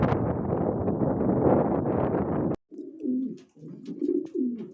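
Loud wind buffets the microphone, then cuts away to close, soft homing pigeon coos repeating in low, rolling phrases.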